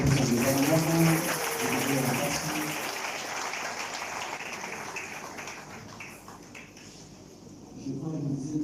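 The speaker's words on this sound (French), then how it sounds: "Pendant qu'elle avance avec l'enfant, on acclame." A church congregation applauds, a loud wash of clapping that gradually thins and fades. Voices and other sounds mix in toward the end.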